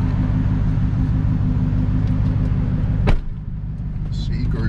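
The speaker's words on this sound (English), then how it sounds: "Now I'm about to drive the Hellcat." A Dodge Hellcat car's engine idles with a deep, steady rumble close by, then a short clunk, and the sound drops to a quieter hum.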